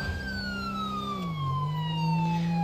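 A police siren in the video game GTA V wails in a slow descending sweep, loud and close, over a low engine rumble, with no voices.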